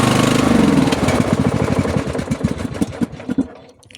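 A small engine runs rough on choke with a loud sputtering putter, then the rhythmic firing thins out and stutters to a stop once it is throttled, dying out within seconds.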